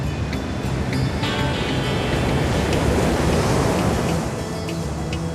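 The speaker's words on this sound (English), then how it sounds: "The trade winds blow here 10 months a year. They stir up the ocean" Atlantic surf driven by strong trade winds on a dry, barren Cape Verde island, a loud, continuous roar of breaking waves mixed with wind rushing across the microphone, with no talk.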